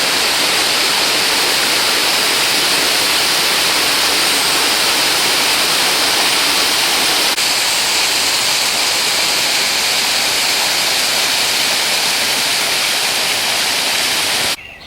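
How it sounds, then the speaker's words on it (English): A waterfall beside the Fife Coastal Path near a railway line, producing a loud, unbroken roar of rushing water that holds steady and close throughout before cutting off abruptly at the very end. "Well, I didn't expect to see a waterfall quite like this."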